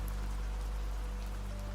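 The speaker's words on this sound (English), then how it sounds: "You have watched rain on this window since you were small" Steady rain pattering on old, slightly uneven cottage window glass, a constant dense hiss of drops, close and even, with no voices.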